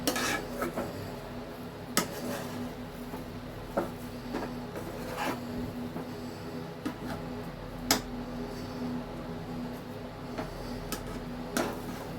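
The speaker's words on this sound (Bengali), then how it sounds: "এইভাবে নেড়ে নেড়ে এটাকে একটা ডোয়ের আকারে তৈরি করে নেব।" Semolina and flour mixture being stirred into a dough in a pan, a spatula knocking and scraping against the metal in irregular clacks over a low background hum, with no talking.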